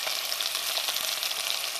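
Carrots sizzling gently in a pan without browning, giving a soft, even, continuous frying hiss up close with no talking.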